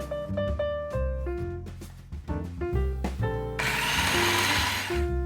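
A food processor pulses flour, tangzhong and butter in short motor bursts, then runs in a longer, louder whirring spell toward the end, all close and without talk.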